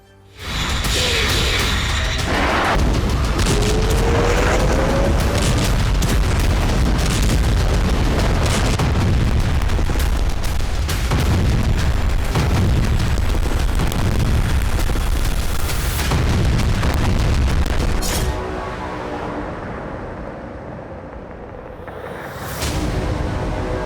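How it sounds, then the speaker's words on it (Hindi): Israeli bombardment of Gaza: loud, continuous booming explosions and artillery blasts roll one after another for about twenty seconds, then ease to a lower rumble before a final burst. "गाजा पर इजराइल के अब तक के सबसे बड़े और बारूदी कहर पर एक वीडियो रील दिखा देते हैं"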